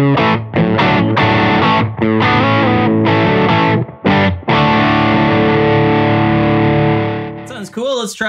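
Heavily distorted electric guitar, a Pinter SB1-S through a 1981 Inventions DRV distortion pedal, plays chugging chords and sustained notes with short gaps, loud and close, ending in a brief squealing flourish.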